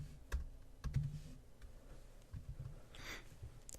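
Someone types on a computer keyboard while writing code, producing a few soft, scattered key taps and clicks, close but faint, with no talking.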